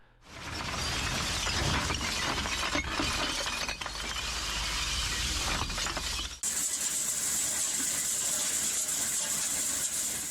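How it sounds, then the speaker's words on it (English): Recycled broken glass cullet crashes and tumbles loudly in an industrial colored-glass factory, a dense continuous clatter of shattering shards that shifts abruptly midway into a steadier, brighter grinding roar of machinery. "Broken glass, beginning a second life inside the furnace."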